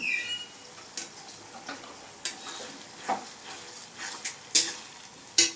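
Spice paste sizzling quietly in a hot pan after tomatoes, with a low frying hiss under a series of separate stirring scrapes and clinks every second or so, close and fairly soft.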